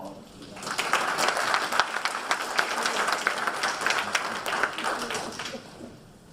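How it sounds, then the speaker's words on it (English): An audience breaks into applause at a commemorative event, building quickly to a full, steady round of clapping that fades out at the end. "Let's give an applause for that."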